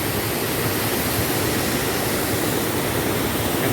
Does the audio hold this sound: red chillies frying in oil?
no